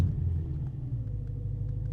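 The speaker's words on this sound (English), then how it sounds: "Let me show you how loud it is if I just start the engine." BMW M3 E92 with a modified exhaust idling after start-up, a steady low, droning engine rumble that holds constant and close throughout.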